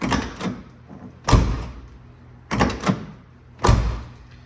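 A 1979 Trans Am's door with a freshly repaired handle, heard as two cycles of a latch click followed by a solid slam, fairly close and loud with short pauses between them.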